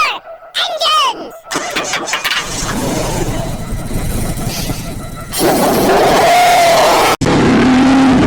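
Race car engines crank and fire up, building to a loud sustained roar with revving, while voices shout over the start.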